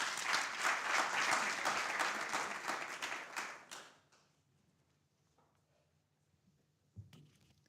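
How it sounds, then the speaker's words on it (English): Loud applause from a crowd at a moot court competition for about four seconds, then fading to near silence, with a brief bump of noise near the end. "A round of applause."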